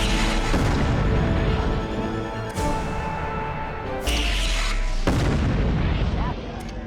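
Heavy artillery explosions from MechCommander 2, a mech strategy game, with several loud broadband booms at irregular intervals over continuous battle noise and rumble.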